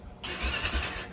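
A four-wheeler engine switched to its reserve fuel sputters in one short, rough burst of about a second. It sounds close, with no talking over it.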